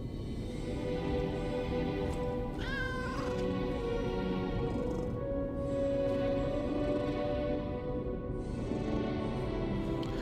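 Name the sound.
cat meowing in the video game Lies of P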